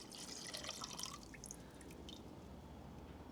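Fuel drips from a pump nozzle at a UK fuel station, with faint, close, irregular drips and trickles over a low steady background hum, fading toward the end.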